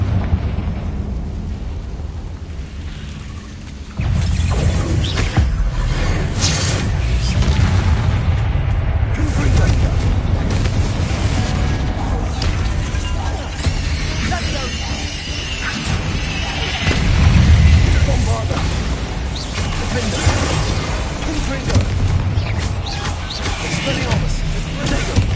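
Confringo spell explosion in Hogwarts Legacy, a loud deep boom that erupts suddenly, followed by rumbling mechanical game noise and further blasts that fill the background for over twenty seconds, with speech mixed in.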